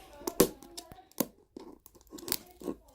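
Plastic packaging of an L.O.L. Surprise Lil Sister toy is torn open by hand, giving several sharp ripping and crinkling bursts with short pauses between them, close and fairly loud.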